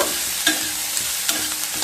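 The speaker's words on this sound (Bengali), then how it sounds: "দিয়ে সবজিগুলোকে হালকা ভেজে নেব।" Capsicum, beans and green chilli fry in a pan with a steady sizzle, punctuated by several scraping strokes from a stirring spoon, close and uninterrupted by voices.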